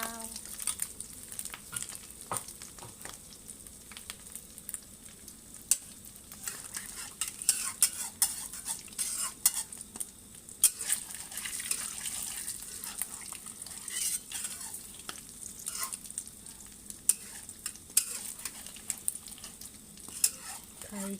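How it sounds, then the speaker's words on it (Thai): Beaten egg for a Thai omelette fries in hot oil in a pan, giving a steady, close sizzle and crackle throughout, with occasional utensil clinks and scrapes against the pan. "เจียว"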